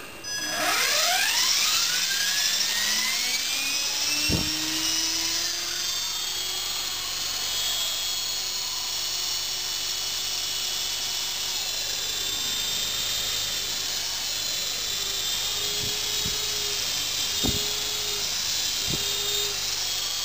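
Motors on a model aircraft being test-throttled, a loud, close, high-pitched electric whine that holds steady with slight rises and falls, with a few sharp clicks and knocks along the way.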